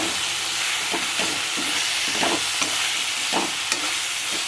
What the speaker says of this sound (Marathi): कांद्यात घालून परतायचे टमाटा। मीठ, गरम मसाला, हळदी, तिखट मिक्स करायचे चांगले।